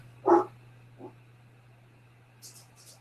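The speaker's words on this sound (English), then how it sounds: "And my puppy's barking." A puppy gives one sharp close bark followed by a fainter, softer yip, heard over a constant low electrical hum, with a couple of faint high clicks near the end.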